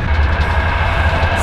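A PKP passenger train rattles loudly along the rails, heard from inside the onboard toilet as a constant close rumbling roar without talk.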